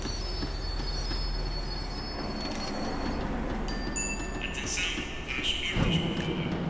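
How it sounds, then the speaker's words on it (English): Tram slowing to a stop in the Max Payne 3 video game, with a rumbling rolling noise under sharp, sustained wheel squeals that shift and intensify toward the end, moderately loud and close. "Tram was slowing down, and I'd only just gotten on board."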